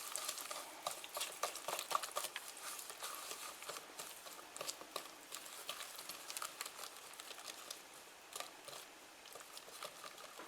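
A spoon works through thick mashed banana muffin batter in a bowl, giving a steady, soft, wet patter of stirring with small clicks. It stays close and quiet, with no talking.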